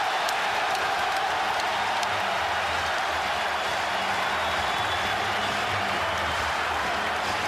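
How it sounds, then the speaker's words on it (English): A packed basketball arena crowd at an Alabama vs. Auburn men's game during a timeout, a loud, continuous roar of cheering and applause that holds steady throughout. "listen to this crowd"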